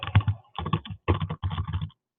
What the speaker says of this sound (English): what did I just hit on my keyboard?